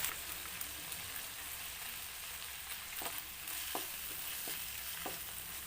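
Corned beef is sautéed in a pan, making a soft steady sizzle broken by a few spatula taps and scrapes, quiet and close, with no talking.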